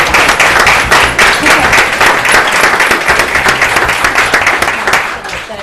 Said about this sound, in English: Let's give these two young gentlemen a big round of applause again.